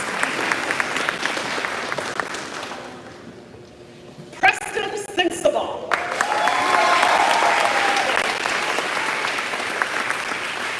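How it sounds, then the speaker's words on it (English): A crowd applauds food service graduates at a human services ceremony in Tennessee, sustained clapping that dips briefly while a voice announces a name, then swells back loud and full. "Let's give them a hearty round of applause."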